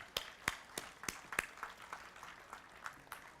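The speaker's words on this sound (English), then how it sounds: "I want to give you a round of applause for what you've done" Sparse, scattered applause from a small group at the 2023 Pittsburgh Recovery Walk: a dozen or so distinct claps, quiet and somewhat distant, thinning out toward the end.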